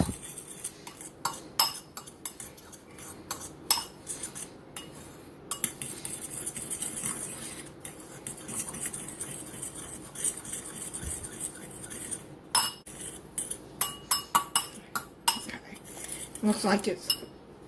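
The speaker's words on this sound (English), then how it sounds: "whisk that up like that, just to make some crumbs" A utensil whisks bread and olive oil into crumbs in a bowl, giving rapid irregular clinks and scrapes against the bowl. The sound comes in bursts, busiest near the end, and is heard close.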